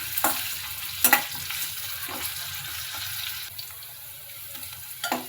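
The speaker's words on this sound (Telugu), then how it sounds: "ఉల్లిపాయలు కూడా వేగిపోయాయి." Onion pieces frying in a pan with mustard seeds and curry leaves, a soft continuous sizzle broken by a few sharp stirring scrapes and clatters near the start, the middle and the end.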